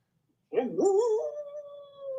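A dog gives one drawn-out howl that rises, wavers, then holds a long sustained note, fairly close and alone in a quiet room.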